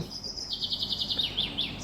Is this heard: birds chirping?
yes